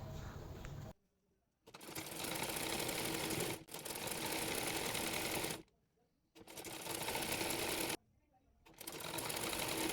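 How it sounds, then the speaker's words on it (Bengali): Sewing machine stitching a sleeve onto the body of a round-necked garment, running in three long loud bursts separated by short pauses, with a steady mechanical chatter throughout. "হাতাটি বডি পার্টের সঙ্গে সেলাই করে নেব"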